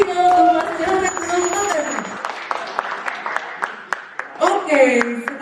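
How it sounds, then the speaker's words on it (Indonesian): An audience applauds a presenter after a talk, with a voice carrying over the start before scattered, distinct claps continue close by at moderate loudness and briefly swell again near the end. "Beri tepuk tangan yang meriah untuk Mas Jared"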